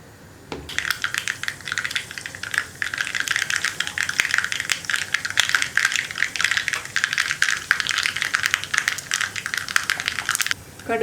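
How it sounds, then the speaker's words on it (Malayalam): Dense, crackling popping and sizzling of mustard seeds spluttering in hot oil for sambar, continuous and close, fading out at the end. "കടുകൊന്ന് പൊട്ടി വരട്ടെ"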